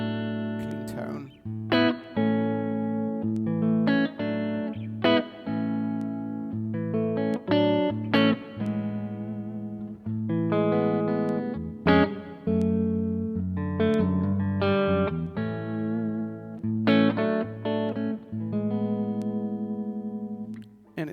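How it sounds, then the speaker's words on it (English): A Westone Pantera X390 electric guitar on the front pickup plays a clean, fat tone with a little reverb, in close, distinct picked notes and chords with short gaps between phrases. "So this is a completely clean sound with a little bit of reverb."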